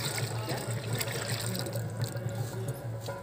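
Mustard cake is stirred into a 20-litre bucket of water to make liquid organic fertiliser, giving a soft, continuous sloshing and trickling of water close by.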